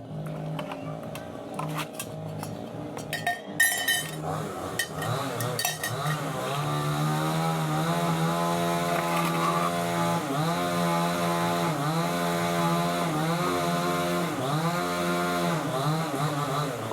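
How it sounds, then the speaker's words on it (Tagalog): Chainsaw cutting trees nearby, a steady sustained whine running loud and continuous after the first few seconds, preceded by clinking of dishes and utensils being washed. "Pagpasensyaan nyo na yung maingay guys kasi nagkukan sila ng puno,"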